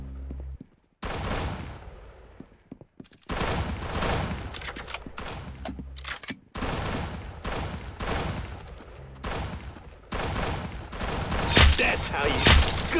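Gunfire in the Roblox Arsenal shooter game: loud bursts of rapid shots come in several separate volleys with brief silent gaps between them, and the firing grows harsher and denser near the end.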